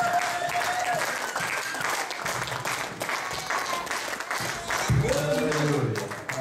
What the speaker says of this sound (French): wir stehen auf. Wir applaudieren